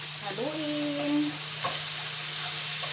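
Pork frying in a hot pan with a splash of soy sauce, sizzling steadily throughout while being stirred, with a brief voice tone early on.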